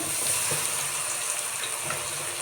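Crushed garlic sizzles steadily in hot oil for a roadside-style puffed rice snack, a constant close hiss with no voices.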